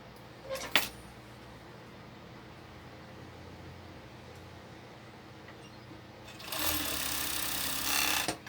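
A sewing machine stitches a crop top side seam: a quiet background hum, a brief clatter near the start, then a loud, steady whirring run of stitching near the end.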